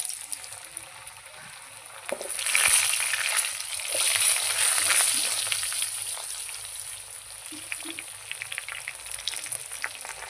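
Potatoes frying in hot oil with cumin and dried red chillies already tempered, a steady close sizzle with crackling bursts that swell and ease as they are stirred, no voices.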